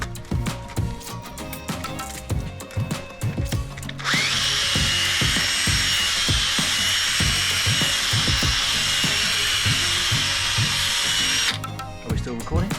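A headlight is sanded with 1000 grit sandpaper, a loud continuous machine whir lasting several seconds, with people talking before and after it.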